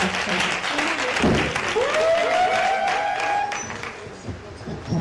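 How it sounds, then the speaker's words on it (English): Audience applause fills a hall at a Nigerian public gathering, steady clapping and murmuring crowd noise with a rising tonal sweep and voices threaded through it. "Please, let's clap for him."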